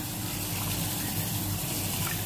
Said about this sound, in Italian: Ecco qua che stiamo mettendo l'acqua.